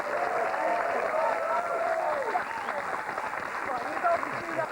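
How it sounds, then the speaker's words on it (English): An audience claps warmly for Paul Weller: a steady, dense wash of applause that holds at an even level for the whole stretch, with a few faint cheers mixed in. "Can we clap him?"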